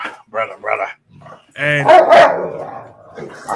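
Dogs bark loudly and close by in a few sharp bursts, with whimpering yips mixed in and voices talking around them.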